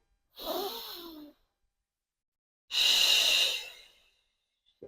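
Two long breaths blown out through the mouth during a gentle postpartum recovery breathing exercise, each soft airy exhale lasting about a second, close and quiet with a pause between.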